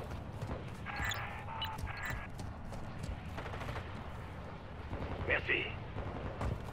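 Gunfire and battlefield rumble from Call of Duty: Modern Warfare II fill a dense, steady soundscape, with scattered shots and impacts under game chatter and a brief spoken word.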